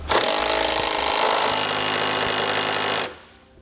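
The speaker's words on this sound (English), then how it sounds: "we'll be using a 13mm socket to snug those up" A power tool with a 13mm socket tightens bolts while fitting nerf bars to a 2016 Chevrolet Colorado, giving one loud continuous whirring burst of about three seconds that cuts off abruptly.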